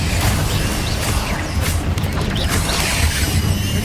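Spell blasts from Confringo and Incendio in the Hogwarts Legacy video game, a dense run of crashing, booming impacts and mechanical clatter that stays loud and continuous, with no voices.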